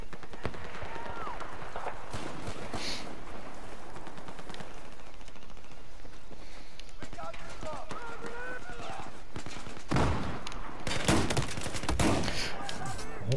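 Battlefield 4 gunfight: repeated loud shotgun blasts and bursts of gunfire crack over in-game action, with a player talking excitedly throughout.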